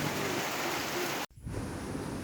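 Dense hiss of heavy rain pouring steadily in Kaptai, Rangamati, briefly cut off by a sharp break before the downpour resumes.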